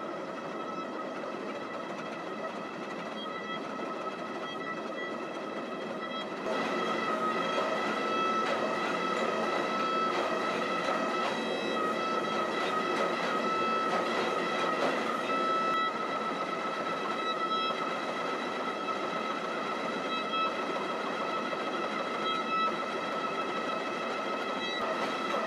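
A forging machine draws out steel for a Japanese nata hatchet, a steady loud mechanical drone with a harsh tonal whine that steps up in intensity partway through and holds continuously.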